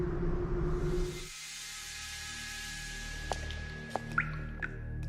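Water drips from a Chinese water torture device, a few sharp, isolated drops falling at irregular intervals over a low steady hum after a louder opening wash of noise.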